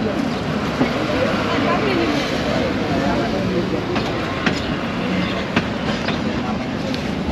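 A local train travels from Dhaka toward Narayanganj, its continuous loud rolling rumble and clickety-clack punctuated by a few sharp rail clicks, with people's voices mixed under the noise.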